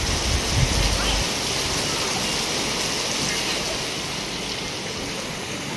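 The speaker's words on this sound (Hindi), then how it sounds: "इतनी देर में ही बारिश आ गई है" Rain falling steadily in a rural village household setting, a dense even hiss that holds for several seconds, with a brief low rumble at the start and no clear talk over it.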